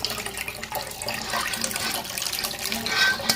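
Blended zobo drink being poured from a pot into a large bowl, a steady close rush of splashing liquid running throughout.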